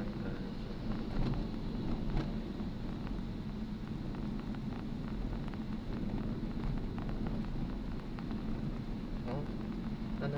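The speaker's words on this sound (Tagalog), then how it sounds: "Umuulan." Rain drumming steadily on a four-wheeled vehicle driving through Metro Manila, a dense constant wash with low road rumble underneath, close and continuous, with no clear talk.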